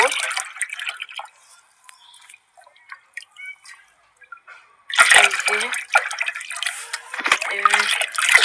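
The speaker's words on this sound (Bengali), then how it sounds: "খাঁটি শস্য খোল ভেজানা যে চার পাঁচ দিন ভিজিয়ে রেখেছিলাম জলের সাথে মিশিয়ে দিচ্ছি" Soaked oilcake fertilizer stirred into water for liquid hibiscus feed: faint drips and small splashes at first, then loud, close, continuous sloshing and splashing of liquid through the second half.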